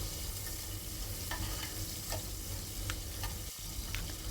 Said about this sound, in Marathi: आता कांदा चांगला आपण परतव परतवून घेऊ